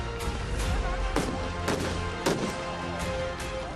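Several dull pops from police tear gas shells being fired at protesting farmers at a border crossing, spaced irregularly over a steady outdoor rumble of crowd and ambient noise.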